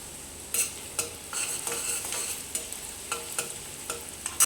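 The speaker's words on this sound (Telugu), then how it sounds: "హై ఫ్లేమ్లోనే పెట్టుకొని వెజిటేబుల్స్ అన్ని ఫ్రై చేసుకోవాలండి" Onions and vegetables stir-fry in a deep wok over a high flame for egg fried rice: a steady sizzle broken by regular, close scraping strokes of a utensil, with no speech.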